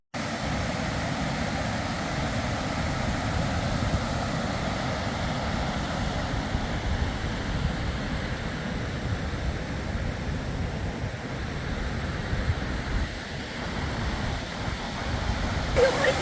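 Rushing water at Whangarei Falls in New Zealand, a steady broadband roar that stays constant and fairly loud throughout, with no voices over it.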